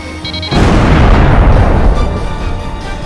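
A destroyed enemy tank in the video game Ace Combat 5 erupts in a heavy, booming explosion that hits suddenly and rumbles loudly for a few seconds before slowly fading.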